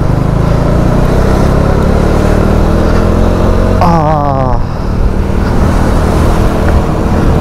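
Motorcycle engine running steadily with road and wind noise on a ride from Mumbai toward Tamhini Ghat, loud and continuous, with a brief rising rev partway through.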